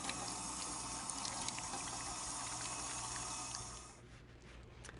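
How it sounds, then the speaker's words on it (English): Water from a kitchen sink tap runs steadily while hands are washed, a close, continuous splashing rush that cuts off near the end, leaving quieter dripping. "Now I'm going to wash my hands because I've been handling raw meat."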